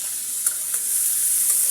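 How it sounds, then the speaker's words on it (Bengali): Prawns coated in turmeric and salt fry in a pan with a soft, continuous high sizzle, marked by a couple of faint crackles close by, no voices. "চিংড়ি মাছটাকে আমি এবার ভেজে নেব।"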